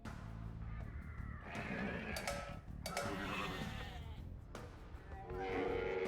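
Sheep bleat in Age of Empires II amid busy game sounds and a voice, the calls rising and dipping through six seconds of steady, dense background.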